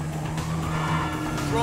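A car in GTA 5 drives hard with a roaring engine and squealing, skidding tires during a chaotic getaway, loud and continuous, with shouting voices over it.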